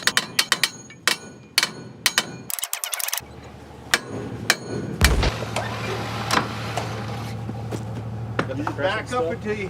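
A hammer pounds on a stranded horse trailer during a blizzard rescue, a run of sharp, hard metallic blows, some quick and clustered, with people talking between and over them.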